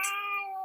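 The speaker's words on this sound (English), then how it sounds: "that's my cat, sorry." A house cat meows once in a long, drawn-out tone, fairly close and clear against a quiet room.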